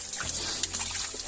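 Water runs freely through a pipe into a tank on a Portuguese homestead, a steady close rushing and gurgling flow that carries on alone for a brief moment.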